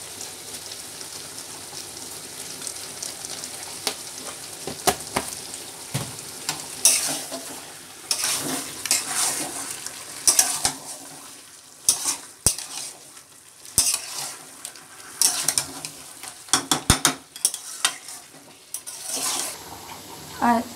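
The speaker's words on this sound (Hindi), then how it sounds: "देखिए मेरा चिकन भी अच्छा से तला गया" Chicken fries in a pan with a steady close sizzle, broken by frequent sharp scrapes and clinks of a spoon stirring against the metal throughout.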